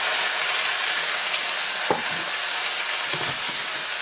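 Mushrooms sizzle and fry loudly in a pan after white wine is poured in to deglaze, a steady dense crackle throughout with a couple of brief stirring clatters and no talking.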